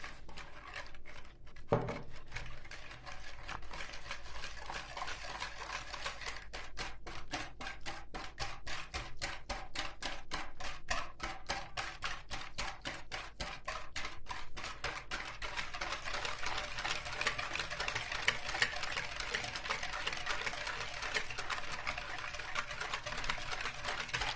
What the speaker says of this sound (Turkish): Şimdi çırpmaya başladım.